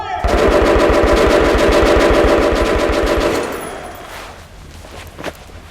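Rapid machine-gun fire in the post-apocalyptic shooter Metro Last Light, a loud sustained burst of evenly spaced shots lasting about three and a half seconds, then cutting off into quieter ambience with a faint clatter.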